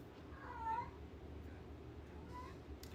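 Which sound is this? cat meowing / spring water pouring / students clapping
cat meowing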